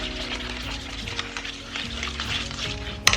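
Butter melting and sizzling in a pan: a steady, close frying crackle throughout, ending with a brief sharp clink.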